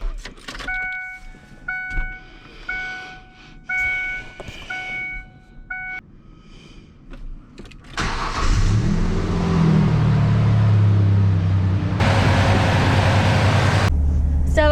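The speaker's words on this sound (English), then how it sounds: "I'll go ahead and start it," A Ford Ranger pickup with a 3.0 L engine, after a fuel pressure injector damper replacement, chimes a few times before its engine cranks and starts, then settles into a loud steady idle with a burst of revving near the end.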